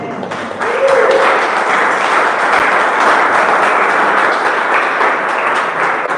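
Congregation at an evangelical church service applauding, a dense, steady wash of clapping that swells in after the first second and holds loud and even, with a faint voice beneath.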